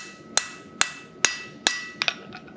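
Blacksmith's hammer striking metal on an anvil during forging practice: four sharp, evenly spaced ringing blows, then a quick double tap and lighter follow-up taps, close and loud.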